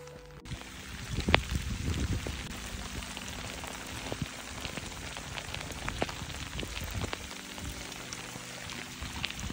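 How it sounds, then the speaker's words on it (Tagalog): Heavy rain pelts steadily on the Mt. Apo trail, a dense continuous hiss with scattered louder drops and splashes close by, no voices. "Lakas ng ulan guys"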